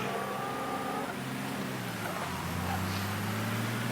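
A car's engine hums steadily as the vehicle pulls away in Mafia 3, its tone rising and settling while it drives off, fairly close and continuous.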